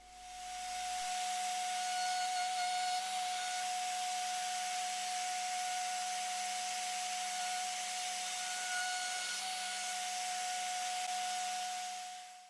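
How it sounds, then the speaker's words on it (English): A router fitted with a 1/2 inch spiral upcut bit plunges into wood to cut mortises, a steady high-pitched motor whine holding constant throughout at close range. "I've got a 1/2 inch spiral upcut bit in the router, and I'm just plunging at the start and at the end of the mortises"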